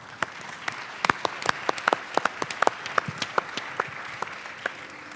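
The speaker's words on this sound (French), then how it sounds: "Sous vos applaudissements, bien sûr." A small audience claps, sparse distinct hand claps in an uneven rhythm, fairly close, tapering off toward the end.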